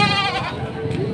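Goats bleating at a crowded livestock market in Padre Garcia, a loud, close, wavering bleat with other animal cries and crowd murmur behind it.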